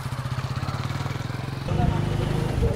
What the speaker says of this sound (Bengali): সোহেল ভাইয়ের বাইক নিয়ে আমরা রওনা দিলাম মন্দিরের উদ্দেশ্যে।